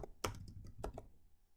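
Quiet computer keyboard typing while Java code is entered, a few soft key clicks in a short burst, close and alone.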